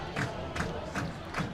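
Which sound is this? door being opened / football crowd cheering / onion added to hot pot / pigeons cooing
football crowd cheering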